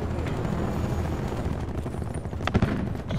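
An attack chopper killstreak in Call of Duty: Black Ops 4 multiplayer on the map Frequency, heard as a dense, continuous rumbling rotor and engine roar with bursts of gunfire and explosion cracks near the end.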